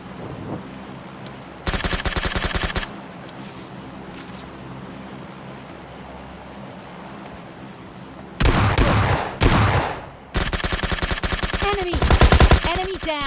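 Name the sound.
S12 shotgun firing in a video game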